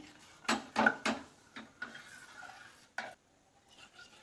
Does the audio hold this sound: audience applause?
no